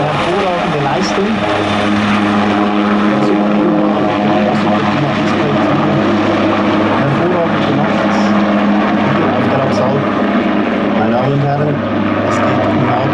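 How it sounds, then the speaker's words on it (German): A Eurocopter TH98 Cougar Super Puma AS-532UL helicopter of the Swiss Air Force performing a flying display, its loud continuous engine and rotor roar steady throughout, with a faint voice underneath. "währenddem sich auch vor dem Jingle noch der Helikopter präsentiert aus Richtung Westen"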